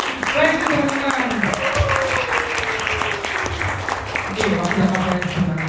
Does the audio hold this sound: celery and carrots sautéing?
no